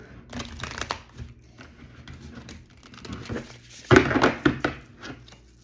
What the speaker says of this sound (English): So I'm going to shuffle really quick